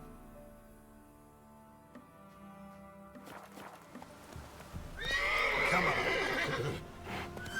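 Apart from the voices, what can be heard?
horse Roach neighing and trotting in The Witcher 3 video game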